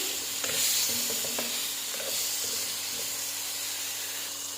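Steady sizzling and frying in a pan, with occasional scrapes and clinks of stirring, close and continuous.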